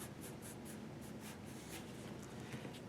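Pencil shading strokes on paper while darkening a cartoon drawing of a female character, a steady series of soft, rhythmic scratchy strokes, close and fairly quiet, with no talking.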